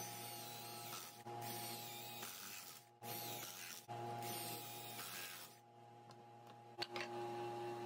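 Steady mechanical whir of a drill boring pocket holes in wood for a table-saw tenoning jig, running in several long bursts with short pauses between them, close and fairly loud, with no talking.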